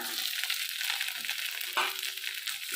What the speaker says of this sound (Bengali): আদা বাটাটা ভালো করে মিষ্টি ভেজে নেব